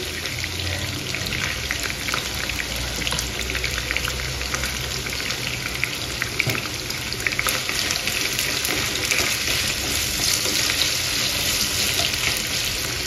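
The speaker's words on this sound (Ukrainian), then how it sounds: "І обжарюємо до золотистої корочки." Onion and garlic fry in a multicooker, giving a loud, steady sizzle and crackle with dense popping that stays constant throughout.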